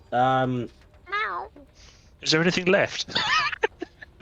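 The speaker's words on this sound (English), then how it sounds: "that is a cat." A cat meows loudly and close at the start, followed by a second shorter wavering meow, then people talk over the rest of the clip.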